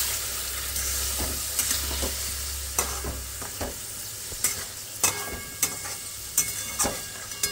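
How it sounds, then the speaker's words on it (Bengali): Chicken added to nearly browned frying onions in a pan, a loud continuous sizzle with a low rumble at first, then sharp spatula scrapes and clicks recurring at a steady pace. "পেঁয়াজটা অলমোস্ট ভাজা ভাজা হয়ে গেছে, এবার আমরা চিকেনটা দিয়ে দিচ্ছি।"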